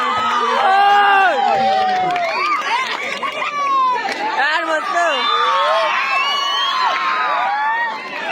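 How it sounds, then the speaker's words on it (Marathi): A large crowd at a sports match cheers, shouts and whistles loudly and continuously, a dense roar of voices with rising calls, keeping up for the whole stretch. "खेळ आवडला असेल मैदानाच्या आतमध्ये तर टाळ्यांचा गजर होऊन जाऊ द्या"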